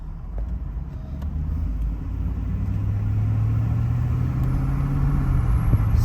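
Inside a Chevy Tahoe with a built 4L60 transmission, the engine drones low and rises steadily as the truck accelerates through its gears, the rumble growing slightly louder.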